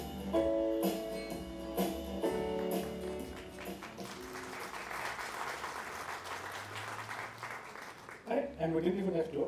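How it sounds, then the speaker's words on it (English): Lecture audience applause builds from scattered claps into sustained clapping at an annual lecture event, steady and moderately loud, with a voice speaking over it near the start and a brief lull before it swells again at the end. "we didn't even have to ask for the applause"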